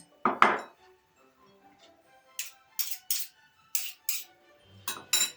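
A spoon stirs cooked rice with poppy seed filling in a dish, giving one soft knock and then a quick series of light, sharp clinks against the dish, close and quiet, with no talking.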